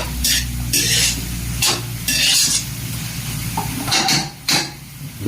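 Pancit miki noodles being stirred and fried in a pan, with repeated bursts of scraping stirring over a steady close sizzle and no talk.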